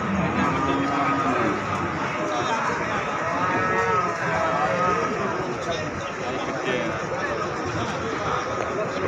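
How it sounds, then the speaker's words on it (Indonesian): Jumbo Limousin cattle low and moo at the Jatirogo cattle market in East Java, heard within a dense, steady wash of crowd noise, chatter and livestock sounds that runs through the whole clip. "Kali ini di sapi-sapi jumbo pasar sapi Jatirogo, Jawa Timur."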